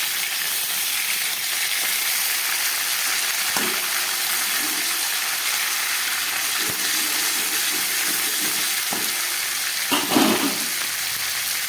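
Panch phoron and two bay leaves sizzle loudly in hot oil for a fish-head and pumpkin ghyat, a dense steady hiss with a few soft clinks of a utensil near the end.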